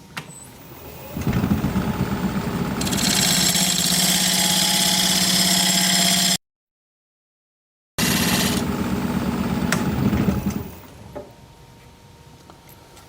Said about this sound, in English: I'm going to use this diamond point tool to square up the sides